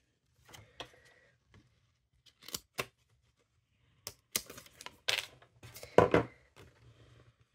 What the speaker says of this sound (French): Je vais couper au ciseau.